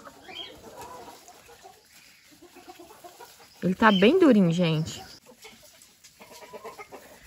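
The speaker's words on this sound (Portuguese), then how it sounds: "As galinhas." Chickens cluck in a short, loud burst of rising and falling calls, heard close by partway through, while someone speaks quietly in a kitchen before and after.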